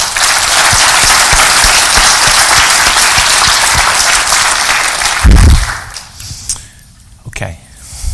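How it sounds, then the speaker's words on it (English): A conference audience gives a round of applause for the meeting organizers at a keynote, loud sustained clapping for about five seconds before it fades out into a quieter room with a few stray sounds. "have everyone give a round of applause to the organizers"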